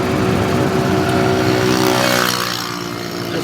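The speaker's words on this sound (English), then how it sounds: "It's motorized ice chest." A small motorized ice chest's engine runs steadily nearby, a buzzing harmonic drone that slowly shifts in pitch and eases off slightly near the end, with no talking.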